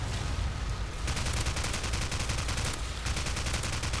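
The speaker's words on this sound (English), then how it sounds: "Although I will try to hit with my AK." Rapid bursts of AK rifle gunfire in Call of Duty 4 online play, a dense, loud run of automatic shots filling the whole stretch with a brief lull near the middle.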